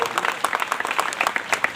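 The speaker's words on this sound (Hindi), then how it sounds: "जोरदार ताली बजाएं आप लोग" Audience applause at a district magistrate's public outreach meeting on government development schemes: brief, dense clapping from a crowd, steady and fairly close, with voices mixed in.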